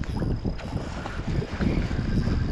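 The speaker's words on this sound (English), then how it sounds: "out here in the wind and the snow" Strong wind buffeting a fishing boat during a blizzard, steady gusty rumble and microphone wind noise close up, with no voices.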